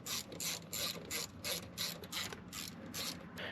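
Ratchet wrench snugging bolts during a reverse-lockout shifter install on a BEAMS 3SGE transmission: a close series of about ten crisp, evenly spaced clicking strokes, fairly quiet and with no voice.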